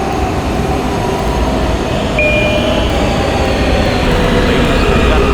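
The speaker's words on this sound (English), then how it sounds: "This is a Ridgeworth Island bound Q express train." An R179 or R211A Q express subway train in a video game rumbles loudly and steadily in motion, with a brief wheel squeal partway through.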